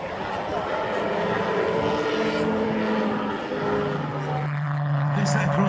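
A kerosene-fuelled Scout model aircraft flies at a model airshow, its steady engine drone holding throughout with a tonal whine shifting in pitch near the end, mixed with crowd and commentary voices.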